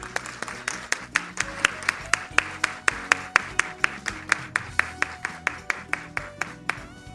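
Audience applause for university students at a research paper competition award ceremony, steady rhythmic clapping from a crowd at a regular pace, moderately loud and close, with a brief burst of scattered claps at the end.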